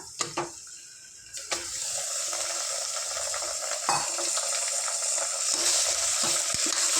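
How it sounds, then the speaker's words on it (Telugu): Chicken fries in hot oil in a pan, giving a loud, continuous hiss and crackle that builds after a few early clinks and handling noises, with occasional stirring knocks close by. "ఇగో చికెన్ క్లీన్ చేసి ఇందులో వేసుకుంటాను"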